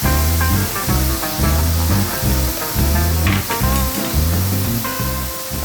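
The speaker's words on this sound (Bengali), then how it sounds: "এখন মাংসটা আমি ঢেলে দিচ্ছি।" Loud, steady sizzling as minced chicken is poured into a hot pan, with a continuous hiss over rhythmic background music.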